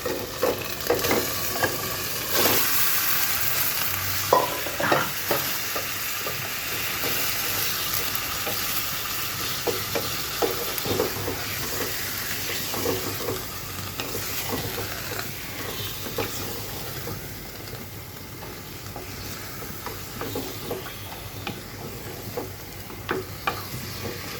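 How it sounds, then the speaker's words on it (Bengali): Ginger garlic paste frying in a pan for beef curry gives a steady close sizzle, with intermittent scraping stir strokes throughout and no talk. "আদা রসুন বাটাটা যখন ভালোভাবে কষানো হয়ে যাবে তখনই আমি যে মাংসটা দিয়ে দিব"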